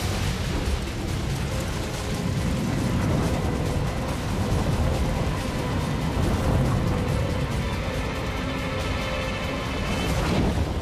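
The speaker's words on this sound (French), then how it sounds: "Les wagons remplis de fuel explosent les uns après les autres." Fuel-filled train wagons exploding one after another produce a continuous loud, heavy roar of rumbling blasts and fire noise, sustained and dense throughout with no voices.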